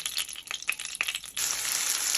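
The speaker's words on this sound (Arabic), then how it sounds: "نطلع الدجاج ونضيف البصل" Onions added to chicken in a hot pan, starting with scattered crackles and pops, then breaking into a steady, bright sizzle that carries on to the end, close and fairly quiet.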